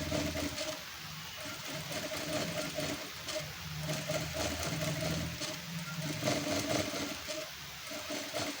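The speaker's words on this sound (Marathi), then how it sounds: "असं पाव इंच अंतर एकसारखं व्यवस्थित गळ्याच्या कडे कडेनं अशी टीप मारून घ्या" A sewing machine stitches along a round neckline, a fast steady mechanical whirring and clatter heard up close, running continuously with slight speed changes and brief easing pauses.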